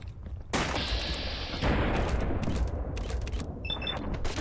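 Heavy machine gun fire in the video game Fallout London, a dense, loud burst of rapid shots with booming impacts that runs nearly continuously, ending with a metallic mechanical clatter.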